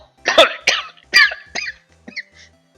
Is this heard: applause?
no